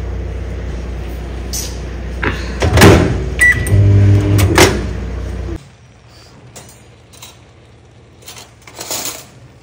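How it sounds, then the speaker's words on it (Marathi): A microwave oven melting jaggery hums steadily and loudly for about five seconds, then cuts off, followed by quieter clinks and light kitchen handling noises. "ओव्हन मध्ये गूळ मेल्ट करते बघा, सोपी पद्धतीने लगेच मेल्ट होतो"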